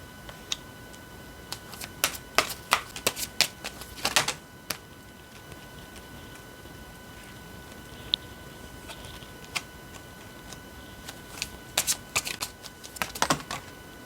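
Tarot cards handled and shuffled in a quiet room, producing scattered soft clicks and flicks in short bursts with pauses between.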